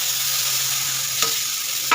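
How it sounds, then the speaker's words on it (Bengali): Fried flat beans and potatoes are stir-fried with small kajoli fish in a pan: a continuous close sizzle with a couple of brief spatula scrapes. "দিয়ে ভালো করে আমি নেড়ে চেড়ে মিশিয়ে নেবো"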